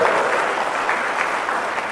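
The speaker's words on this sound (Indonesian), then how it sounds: "Tepuk tangan saja kasih bapak-bapak ini." Church congregation applauding the fathers during a sermon, a steady dense wash of clapping that fills the whole moment, loud and close with no speech over it.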